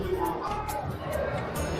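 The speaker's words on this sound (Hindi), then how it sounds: "आज राधाष्टमी के मौके पर बहुत भीड़ बनी हुई है दरबार में" A dense crowd of devotees fills the Khatu Shyam temple darbar on Radhashtami, a steady murmur of many voices blending into continuous hubbub with no single speaker standing out.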